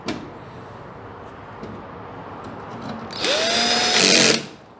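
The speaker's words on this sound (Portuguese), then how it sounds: "Pronto, coloquei aqui os parafusos, dois pelo menos" A power drill drives screws into the board of a Semp Toshiba LC4046FDA TV under repair. After a quiet room it makes one loud whirring run of about a second, rising in pitch before it stops.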